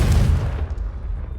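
A Confringo fire curse blast goes off in Hogwarts Legacy, a single loud booming burst that quickly fades into a rumbling tail.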